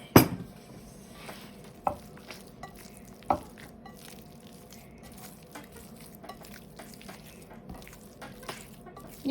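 Bare hands squish and fold sticky no-knead focaccia dough slicked with olive oil in a bowl, soft wet squelches with a few sharper knocks against the bowl, close and fairly quiet.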